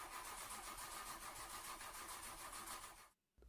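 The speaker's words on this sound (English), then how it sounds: "I love how he's just doing the car sound effect." A car engine sound effect roars steadily and loudly for about three seconds, then cuts off abruptly into near silence before a brief return at the very end.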